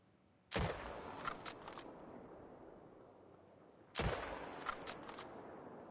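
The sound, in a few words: gunshots fired at an alligator in the video game The Hunter: Call of the Wild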